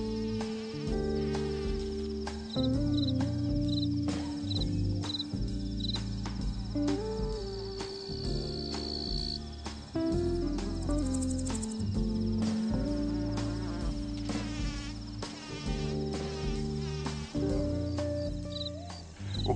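Grasshoppers and crickets sing in a summer garden, with high buzzing insect trills layered over prominent music that carries throughout.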